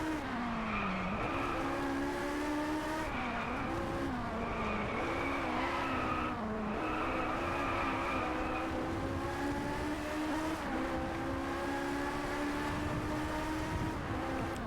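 A race car in the video game Driveclub skids hard through sharp corners, its engine droning steadily under long, wavering tire squeals that rise and fall repeatedly, loud and close with no talking.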